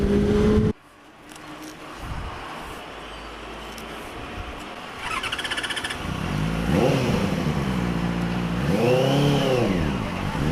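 A Benelli 600i ABS inline-four motorcycle on the road, passing among trucks, revs hard in several rising and falling sweeps, its engine note climbing high and loud after a quieter stretch following an abrupt opening cut.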